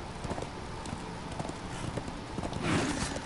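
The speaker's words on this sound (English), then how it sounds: "Let's go, horse." A horse gallops in the video game Darksiders II, its hoofbeats clip-clopping in a steady rhythm under a busy game soundscape, with a louder swell near the end.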